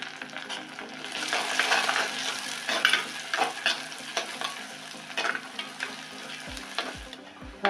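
Crushed garlic fries with browning onions in a pan for a fish gravy, a steady close sizzle punctuated by irregular scraping and stirring clatter, swelling mid-clip, with a few dull knocks near the end and no talking.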